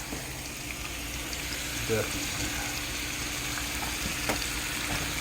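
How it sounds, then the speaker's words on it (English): Meat frying in a pan for lasagna, giving a steady close sizzle with a few brief clicks and bumps. "I'm gonna watch some meat cook"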